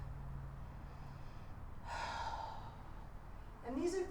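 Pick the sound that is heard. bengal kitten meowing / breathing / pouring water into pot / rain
breathing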